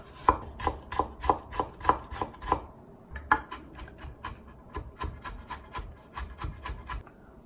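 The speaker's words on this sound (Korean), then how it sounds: "당근도 동일한 방법으로 이렇게 다질 거예요." A knife minces carrot rapidly on a cutting board, quick evenly spaced thuds in two bursts separated by a brief pause, close and clear.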